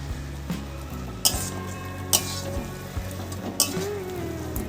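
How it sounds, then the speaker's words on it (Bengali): Chicken liver and fried potato with spices and turmeric sauté in a pan, a continuous soft sizzle broken by a few sharp metallic scrapes and clinks of a spoon against the pot. "এবার সব কিছু একসাথে বেশ কিছুক্ষণ সময় ধরে কষিয়ে নেব।"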